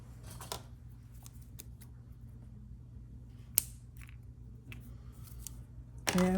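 Scissors snip through wafer paper in a quiet room, a few sharp separate cuts spaced seconds apart, with a louder handling clatter at the end.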